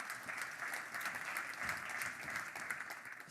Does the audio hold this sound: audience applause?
yes